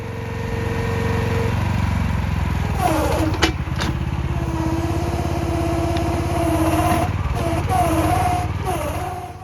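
Small gas engine on a Liberty towable 360-degree backhoe excavator runs loud and close while digging a trench, a steady throbbing drone with the pitch rising and falling as the throttle and hydraulics load up, plus a few clanks.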